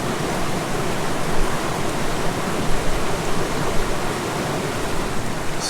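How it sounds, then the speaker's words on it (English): Steady rushing of water flowing in a creek, a dense, close and loud wash with no breaks and no voices. "Oh, what a great creek."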